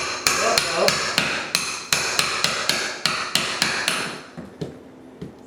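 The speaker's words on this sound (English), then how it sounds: "It's my nail puller." Nail puller hammered into a wooden floor joist to pull nails: a steady series of about fifteen sharp metallic hammer blows, evenly paced then slowing and fading, close with no talk.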